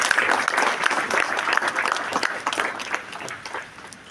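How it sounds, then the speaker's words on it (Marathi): A crowd gives loud, dense, sustained clapping at a Velankanni Mata church procession in Wagholi, the applause filling the space throughout and tapering slightly toward the end. "तर त्यांच्यासाठी आपण जोरदार टाळ्या वाजवूया"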